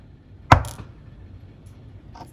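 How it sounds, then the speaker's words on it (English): A small valve pressed into a ThermaCell butane canister gives a single sharp click, close and clear, followed by a brief fading tail against a quiet background. "You will then hear a small click."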